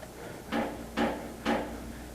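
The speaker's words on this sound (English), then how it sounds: "That pounding, someone's at the door." Three heavy knocks pound on a wooden door, evenly spaced about half a second apart, loud and close against a quiet background.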